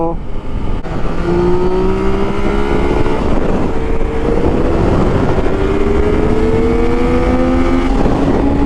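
A BMW S1000RR sport motorcycle with an aftermarket exhaust revs loudly nearby, its exhaust note climbing and holding in rising whines, with wind rushing across the microphone.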